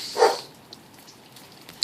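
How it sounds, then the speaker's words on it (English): Dogs bark indoors, one short loud bark near the start and a few faint, brief yips later, over a quiet background. "my dogs are barking"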